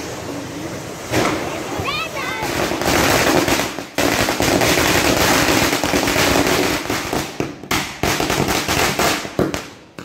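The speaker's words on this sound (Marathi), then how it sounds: "आम्ही फटाके पण थोडेसेच वाजवले" Diwali firecrackers go off close by in a dense, loud crackling barrage of bursts and sharp bangs, with a whistling rocket rising early on, during rain, while people talk and shout.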